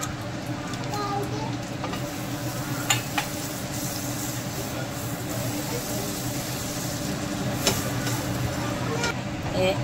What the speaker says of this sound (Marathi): आता आपण ब्रेड शेकून घेत आहे. आतल्या बाजू शेकून घेत आहे.